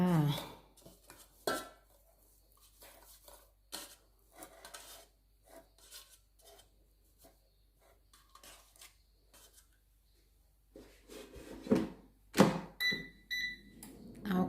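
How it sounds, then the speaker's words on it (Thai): Salmon fillets seasoned with salt and pepper are set into an air fryer basket, giving scattered clinks and clatters of metal and dishware, mostly light and intermittent, growing louder and busier near the end. "เรียงลงในหม้ออบเลยจ้า"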